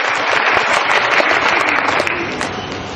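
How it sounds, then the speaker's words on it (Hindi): An audience at a business seminar bursting into loud, dense applause, many hands clapping together continuously for a few seconds before easing slightly. "आपकी जोरदार तालियों के बीच।"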